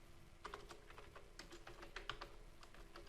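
Fingers type a code comment on a computer keyboard in a quick, uneven burst of soft key clicks, close and quiet, with no talking.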